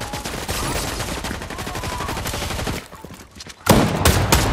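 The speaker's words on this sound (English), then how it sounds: "Somebody just shot at me too" Rapid bursts of gunfire in a Fortnite match, loud and dense shots for several seconds, a brief lull, then another sharp volley close by.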